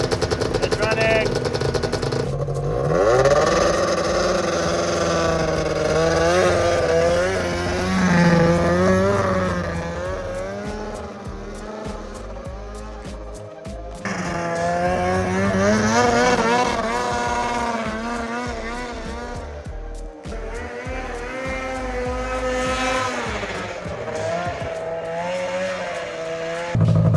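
Engine of a 1998 Polaris 600 RMK snowmobile running after a cold start in powdery snow, a loud buzzing two-stroke drone that rises and falls with revving, steady throughout and close by.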